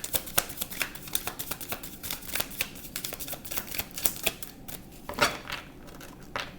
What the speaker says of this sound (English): I'm going to do some shuffling.